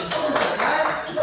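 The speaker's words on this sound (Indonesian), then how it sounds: "Tepuk tangan untuk Mas Wahyu." A short burst of applause from a group, steady hand clapping with some murmured voices mixed in.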